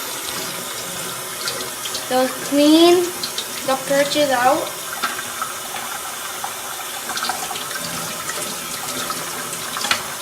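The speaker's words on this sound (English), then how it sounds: "Turn on the water." A sink tap runs during bird cage cleaning, a steady wash of water across the whole stretch, with a person talking over it near the start.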